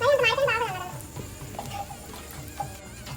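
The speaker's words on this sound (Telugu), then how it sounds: "ఈ మ్యారినేట్ చేసుకున్న పన్నీర్ పీసెస్ని యాడ్ చేసి కొంచెం ఫ్రై చేసుకోవాలి" Marinated paneer pieces frying in a pan, giving a soft low crackle and light stirring scrapes, close but quiet, with a brief murmur of indistinct voice at the start.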